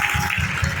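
A church crowd clapping steadily and loudly at a celebration, with a dense rhythmic patter of many hands filling the whole moment.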